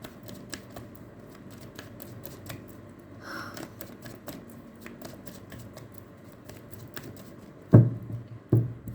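Tarot cards are shuffled by hand in soft, irregular flicks and taps, quiet and close, with two louder thumps near the end.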